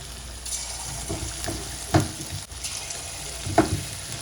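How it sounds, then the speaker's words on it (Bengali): Chicken pieces dropped one at a time into hot white oil sizzle and fry steadily, with sharper bursts of spitting as each piece goes in, close and fairly quiet. "এক পিস এক পিস করে দিয়ে দেবো তেলে আর তেলটা ভালোই গরম হয়ে গেছে"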